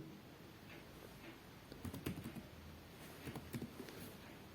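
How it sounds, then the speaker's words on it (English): A few quiet clicks from keys pressed on a computer keyboard during spreadsheet data entry, including the Tab key, sparse and close, with no talk. "Again press the tab key"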